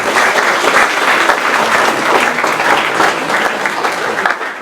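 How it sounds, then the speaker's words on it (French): Audience applause for parents at a commune ceremony celebrating young graduates in Vieux-Habitants, loud, close, dense clapping from a crowd that pulses steadily throughout with no talking over it. "Vous méritez aussi l'applaudissement comme pour les bacheliers."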